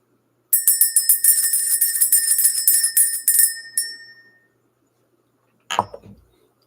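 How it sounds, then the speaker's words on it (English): A bell rings in a quick run of bright metallic strikes that shimmer and fade, then one more soft chime sounds after a pause, alone with no voices. "We're going to go ahead and ring the bell."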